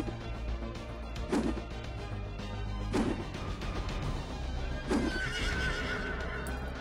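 A horse in the video game Legend of Maratha Warriors, whinnying three times at even intervals, loud and close, over steady hoofbeats and scattered impact sounds.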